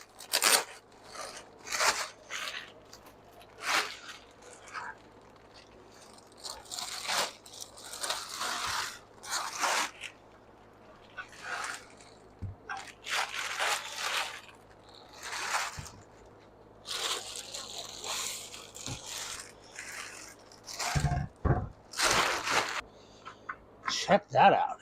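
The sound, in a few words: taking a radiator part out of its packaging bag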